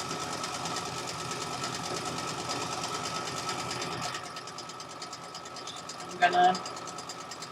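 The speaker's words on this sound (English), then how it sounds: "You really want to let the machine do a lot of the work, because otherwise you're going to stretch the fabrics or disorient them." Sewing machine stitching long fabric strips, a fast steady mechanical whirr for about four seconds before stopping, followed by quiet handling and a brief clunk; a voice speaks briefly.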